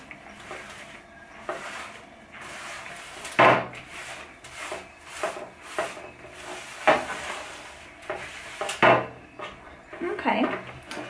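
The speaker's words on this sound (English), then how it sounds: "I'm just gonna wipe and see how much of the grease it has removed" Cloth wiping grease off a kitchen surface treated with Pink Stuff paste cleaner, heard as a run of close, soft rubbing and scraping strokes with a few sharper scuffs.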